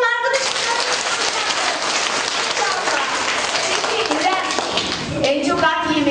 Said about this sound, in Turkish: Alkışlayalım arkadaşımızı.